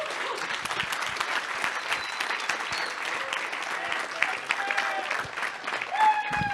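A conference audience applauds after a keynote speech, dense sustained clapping from many hands filling the room, with some voices mixed in near the end.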